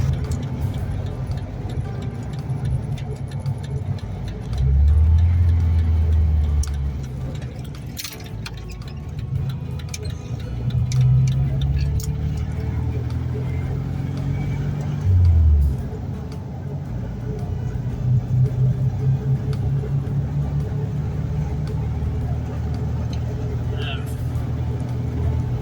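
A 1973 VW Super Beetle drives along with a steady engine drone and road noise throughout, rising in a few brief louder surges as it changes speed, heard from inside under occasional talk.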